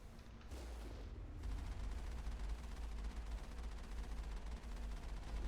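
Gunfire in the Mass Effect video game during a rough firefight on Xawin: a dense, continuous rattle of shots and rumbling booms, fairly faint and muffled, rolling on steadily with no talking.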